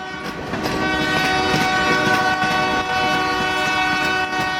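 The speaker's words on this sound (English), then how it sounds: "The train looked like it was about to devour the car if it didn't get out of the way." A train in Memphis rumbles past with its horn blaring, a loud sustained chord over heavy rolling noise and faint clicking of the wheels, close and continuous throughout.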